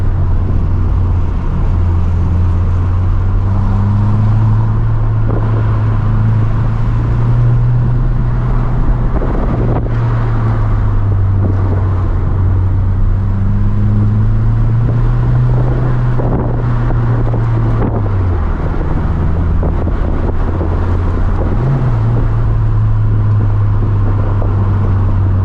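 A modified 2022 Subaru WRX STI sedan driving on a canyon road, its engine droning steadily from inside the cabin, rising and falling with throttle alongside loud wind and road rush, with no talking.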